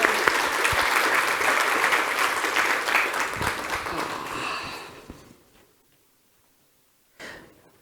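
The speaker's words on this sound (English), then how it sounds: "please join me in giving Tamara a round of applause" Audience applause after a session at a business talk on hiring strategies: a full, close burst of clapping lasting about five seconds that fades out, followed by silence and a brief faint noise at the end.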